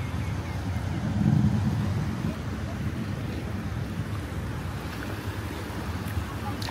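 Speedboat running on open sea near Koh Larn, Pattaya: a steady low engine drone mixed with rushing water and wind buffeting, continuous and close throughout.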